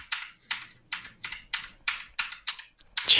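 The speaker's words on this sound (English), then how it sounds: "Jeez, so loud computer keyboard" Loud computer keyboard typing close up, about eight quick bursts of clustered keystrokes at a steady rhythm, with no voices.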